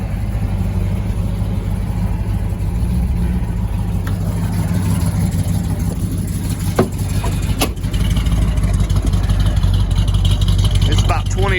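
Loud, steady low rumble of a 1966 Dodge Charger's factory 426 HEMI V8 idling close by in cold weather, with a few clicks and a slight swell in level near the end.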